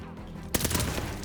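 A dynamite charge detonates in the Call of Duty: Vanguard video game, a sudden loud blast after a quiet stretch, followed by a dense rumbling roar that carries on to the end.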